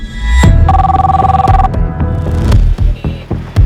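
A telephone rings in an indoor domestic drama scene, its electronic trill repeating in a steady pulsing pattern for a few seconds before breaking into separate short bursts, fairly loud and close with no talk.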